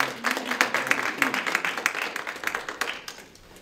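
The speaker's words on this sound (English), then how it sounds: "let's give them a round of applause for everyone" A small group at a community foundation board meeting applauds, a scattered patter of claps lasting a few seconds and tapering off toward the end, with faint murmuring beneath.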